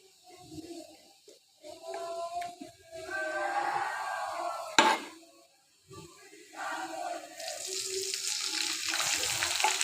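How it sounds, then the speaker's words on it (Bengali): Water poured into a pan of browned fried onions and spices while cooking beef bhuna, giving a bright splash and a hiss of steam and sizzle that swells and settles into steady frying, with a sharp clatter midway. "মশলাটা যেন পুড়ে না যায় সেই জন্য আমি পানিটা দিয়ে দিলাম"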